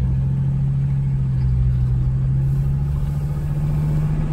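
A Mercedes 300D diesel car with rebuilt injectors drives along, a steady low engine drone and rumble heard from inside the cabin, continuous and fairly loud with no talk.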